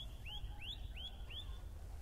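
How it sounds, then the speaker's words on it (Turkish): A bird sings at hilltop ruins of an ancient Pamphylian city, giving four quick rising whistled notes in an even rhythm, clear but not loud over a low wind rumble. "Şurada bir kuş ötüyor. Sesi o kadar güzel ki."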